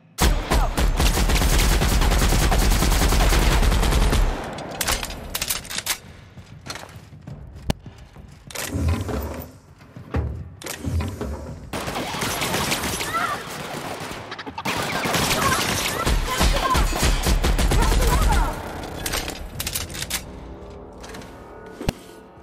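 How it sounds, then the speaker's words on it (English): Bursts of video-game gunfire from The Outer Worlds, loud rapid volleys of shots with thuds and quieter pauses between them, some distant and some close. "the shooting you should hear upstairs"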